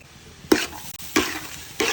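A spatula stirs egg fried rice with sugar, salt, MSG, pepper and soy sauce in a hot pan, three distinct scraping strokes over a quiet sizzle.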